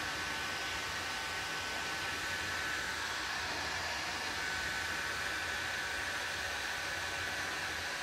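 A hair blow dryer running nonstop, a loud, even hiss of rushing air held close while heat-setting stain on a wooden charcuterie board.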